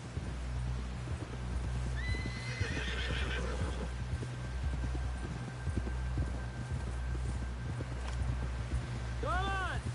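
Horse hooves clip-clop steadily over open ground while a horse whinnies, with a cowboy riding back toward camp buildings; a voice speaks near the end.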